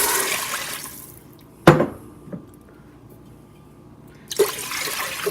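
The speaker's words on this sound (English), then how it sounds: "Time for the turkey broth." Turkey broth poured into an Instant Pot while broccoli soup is being made: a broad liquid splash and trickle fills the opening seconds, pauses with a couple of sharp clunks, then the pour resumes near the end, close and fairly loud.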